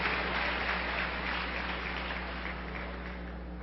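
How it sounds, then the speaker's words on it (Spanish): Audience at a talk for church leaders and pastors applauding, a steady, soft wash of many hands clapping at a distance over a low electrical hum, fading slightly. "Yo creo que las que aplaudieron fueron las esposas"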